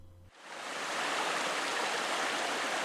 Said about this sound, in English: There's a little creek on the north side of the Chetco River.